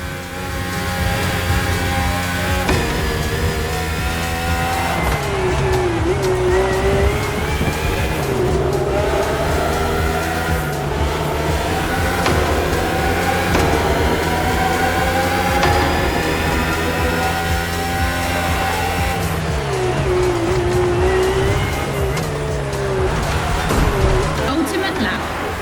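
Red Bull Formula 1 race cars with Honda engines in The Crew Motorfest, a loud high-pitched engine scream rising and falling through the gears for the whole stretch, with steady speech running over it.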